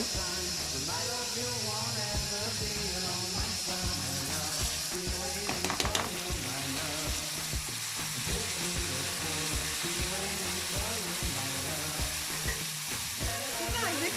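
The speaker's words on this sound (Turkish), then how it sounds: "Pirinçlerimizi de kavuruyoruz bu aşamada. Arpa şeyhelerimizle birlikte." Washed rice and pink-toasted orzo are sautéed in butter in a pot, giving a continuous soft sizzle with scraping stirs, while background music plays throughout.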